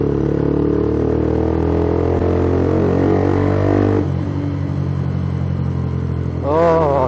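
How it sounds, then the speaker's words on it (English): A 2011 Honda CBF 125 motorcycle's exhaust revs loudly nearby, its tone climbing in pitch and then dropping off, settling to a lower idle before a brief quick blip at the end. "That exhaust, my god."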